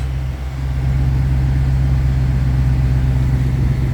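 Car engine idling just after the ignition starts: a steady, low, even hum close by, holding level for a few seconds with no voices.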